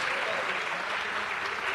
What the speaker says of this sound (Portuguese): vamos aplaudir mais o Senhor